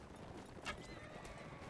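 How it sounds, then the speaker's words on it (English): A horse in a video game neighs in a short, bright whinny amid a soft background of hoofbeats and game ambience, quiet and brief. "That's a big horse."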